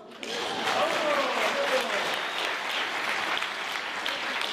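An audience at a film screening in a labour hall breaks into applause after a short quiet start, steady mid-distance clapping that continues evenly to the end.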